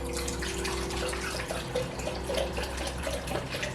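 Two cups of vinegar poured for pickled red onions, a steady close liquid stream running without a break, with no talk over it.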